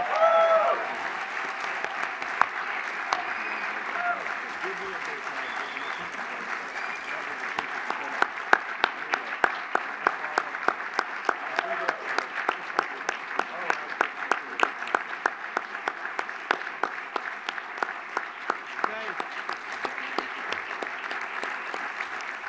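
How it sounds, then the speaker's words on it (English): A plenary business session crowd gives the mayor another round of applause: a swell of clapping at first that thins into scattered, distinct claps and fades out toward the end. "Can we give our friend and our leader, Mayor Benjamin, one more round of applause?"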